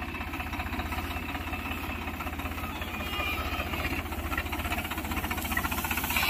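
A Swaraj 855 tractor engine runs steadily while pulling a Shakti Kisan reaper binder during wheat harvesting, giving a close, continuous mechanical drone with a rapid rhythmic chug and no talk.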